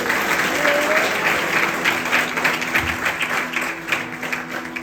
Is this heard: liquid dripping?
no